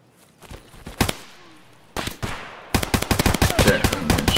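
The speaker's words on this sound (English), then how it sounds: "I'm getting shot at. Yeah, there's someone with a rifle somewhere." Rifle shots ring out in Escape From Tarkov on the Customs map, first a few single cracks spaced apart and then a rapid string of loud reports, with no one speaking over them.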